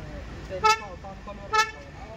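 A car horn gives two short toots about a second apart over a low engine rumble as the car starts.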